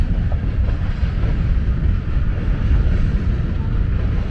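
A westbound CSX freight train with BNSF locomotives and hopper cars passing on the Willard subdivision, a loud continuous low rumble and roar that holds steady throughout with no voices.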